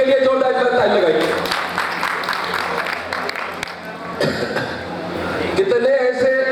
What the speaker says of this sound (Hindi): बैठ जाइए सब लोग, इनके लिए जोरदार ताली लगाइए।